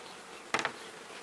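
Honeybees hum faintly and steadily as a beehive frame is handled during an April nest expansion, with a brief burst of louder buzzing and knocking in the middle.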